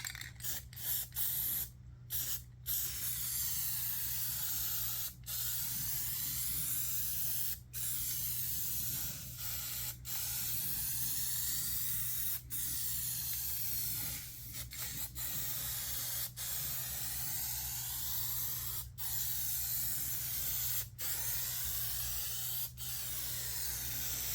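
An aerosol can sprays paint onto the rusty floorboards of a John Deere lawn tractor, a loud close hiss held in long steady passes broken by short pauses.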